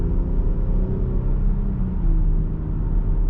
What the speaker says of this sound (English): The exhaust is going to be the most expensive one, which you can hear.